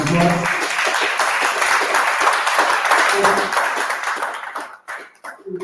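Audience at a Somerset Cricket Club recognition event applauding invited guests, a loud, dense burst of many hands clapping that tails off near the end, with a few voices mixed in.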